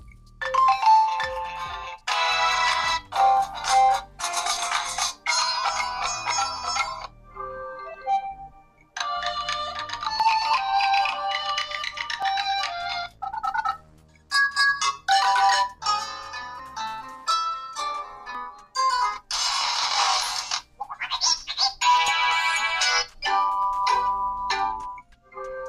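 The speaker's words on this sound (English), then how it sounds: "Let's listen to some of the ringtones." A series of HOTWAV Hyper 7 phone ringtones play one after another, bright melodic chimes and tones separated by brief pauses, clear and close.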